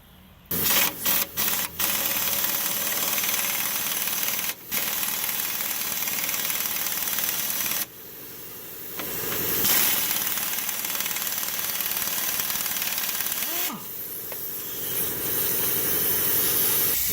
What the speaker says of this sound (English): then hit it with the air gun